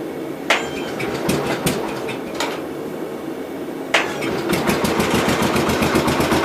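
A 1967 424 tractor engine cranks with a few uneven knocks, then fires and settles into a loud, fast, steady rhythmic chug, heard up close.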